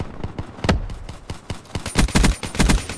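Rapid video game gunfire from a shooter match, with irregular bursts of loud sharp shots clustering into quick volleys and a few closer, heavier blasts near the end.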